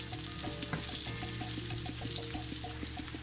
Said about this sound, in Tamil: அது ஆயிலில் சேர்த்துட்டு ஒரு 30 செகண்ட்ஸு வதக்குறேன் நான்.